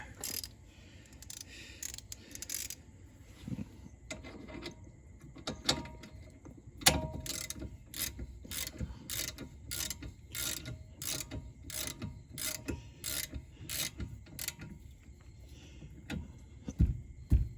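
Ratchet clicking while tightening a rear brake caliper bolt on a 2019 Honda Civic, long runs of quick, sharp metallic clicks in bursts with short pauses and some tool handling noise.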